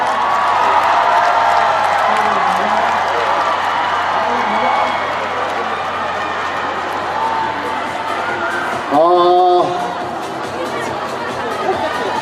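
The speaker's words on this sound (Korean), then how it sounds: "지금까지 함성 순위 중에 가장 큰 함성이었던 것 같습니다" Crowd at the Songdo beer festival concert roars and cheers loudly and steadily for about nine seconds, with a brief burst of shouting near the end before the noise eases slightly.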